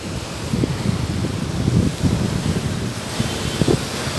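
Steady wind and rolling surf on a beach of dark, almost black stones in Tamil Nadu, India, a continuous rushing wash with gusting microphone buffeting and no voices.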